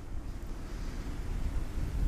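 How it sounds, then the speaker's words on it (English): Wind buffets an outdoor microphone in a steady low rumble, a continuous gusty roar that swells slightly toward the end while work on a Flymo L47 two-stroke lawnmower pauses, with no voices. "it's so windy, it's not even funny."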